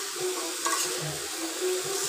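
Water lily stems poured into hot spiced oil in a pan, giving a bright continuous sizzle with soft stirring clatter, close up with no talking.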